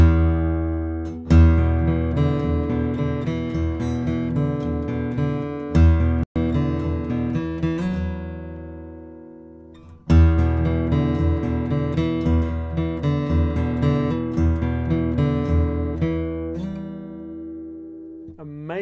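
A 1944 Martin D-18 acoustic guitar played solo, full bass-heavy strummed and picked chords ringing close and clear, with a couple of sharp strums restarting the passage.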